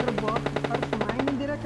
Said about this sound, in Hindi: कहाँ से फायर हो रहा है यार